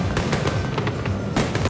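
Fourth of July fireworks explode in a rapid string of loud bursts and crackles, with a dense volley near the end and no talking.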